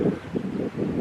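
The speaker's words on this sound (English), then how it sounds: "Pretty brisk wind." Steady gusting brisk wind on a warm day, around 70 degrees, rumbles and buffets a microphone outdoors on a hobby farm, rising and falling in low waves with no voices.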